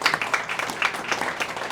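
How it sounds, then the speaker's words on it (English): Audience applause fills a lecture hall after a talk on the Russia-Ukraine war, a brief burst of many hands clapping, dense and moderately loud, with no one speaking. "you all beat me to the punch because I was going to ask for a round of applause for Rebeccah"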